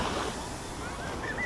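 Small sea waves wash against the shore on a November afternoon at Alanya, Turkey, a steady close surf hiss with wind buffeting the microphone.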